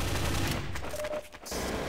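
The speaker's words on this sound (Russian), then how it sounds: "Отличный выстрел!" Rapid bursts of gunfire in Counter-Strike: Source deathmatch play, dense overlapping shots filling the first second, then a brief lull before more shooting resumes, with no talk.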